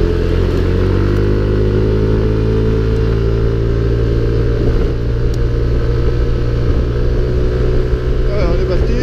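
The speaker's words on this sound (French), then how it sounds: "c'est forcément un scooter qui est destiné surtout à la ville." A Yamaha Tricity 125 three-wheeled city scooter hums along at steady speed, its engine drone loud and close with wind rush, as someone talks over it.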